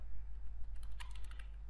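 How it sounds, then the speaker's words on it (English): Quick typing on a computer keyboard while entering data into a sales form, a short close burst of light clicking keystrokes over a steady low electrical hum. "here I'm just typing the quantity"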